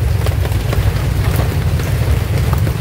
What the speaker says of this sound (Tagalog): medyo hindi tayo makakilos kasi sobrang lakas ng ulan